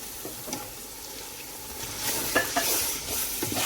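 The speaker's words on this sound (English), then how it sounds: "I can now add my fresh blended red tomatoes, garlic, ginger, and the nutmeg, and add my bay leaf." Blended fresh red tomatoes, garlic, ginger, nutmeg and a bay leaf go into a pot of tomato paste for Nigerian party jollof rice, with a soft stirring sizzle that grows louder and wetter partway through.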